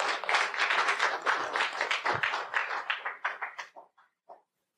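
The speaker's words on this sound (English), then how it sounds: "let's give her a round of applause" Crowd applause with dense clapping for about three seconds, then thinning out to a few scattered claps before fading to silence.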